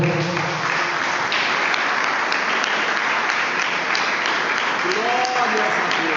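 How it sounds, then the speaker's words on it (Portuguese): Church congregation at an evening service gives a vigorous round of applause to the Lord, continuous dense clapping with voices and a tonal cry rising over it toward the end. "dar uma gloriosa salva de palmas ao Senhor"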